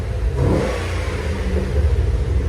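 A Pontiac G8 GT 6.0L V8 engine revving loudly and close, a throaty rumble rising in pitch with a rough, burbling exhaust tone.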